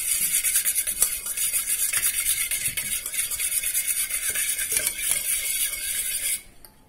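Half a bowl of yogurt is whisked briskly in a metal pot, a rapid scraping, clinking rhythm of utensil against the vessel that continues for several seconds before stopping abruptly.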